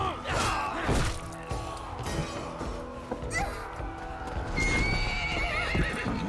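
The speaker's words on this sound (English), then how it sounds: "Big horse." A horse in the video game Assassin's Creed Valhalla whinnies loudly near the start, then its hooves clip-clop steadily with a few thumps, close and clear throughout.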